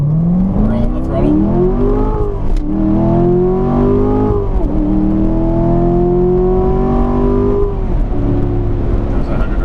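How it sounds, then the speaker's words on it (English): A 2017 Corvette Grand Sport pulls hard at full throttle from a slow roll on a closed circuit, engine note climbing steadily through several gears with brief dips at each upshift, loud and close with someone talking over it. "I'll give you again a proper acceleration that I don't miss my fucking shifts"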